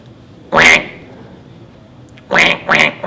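A human voice imitates a duck, giving one nasal quack, a pause, then two more quick quacks, loud and close.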